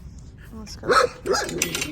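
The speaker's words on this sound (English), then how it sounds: "Once again, I'm sorry about the barking dogs." Neighborhood dogs bark in a couple of short bursts at moderate distance while a person speaks briefly nearby.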